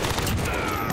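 A dense, loud burst of gunfire from a Modern Warfare multiplayer match fills the whole second, sounding like sustained automatic fire up close.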